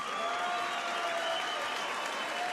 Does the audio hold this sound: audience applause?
yes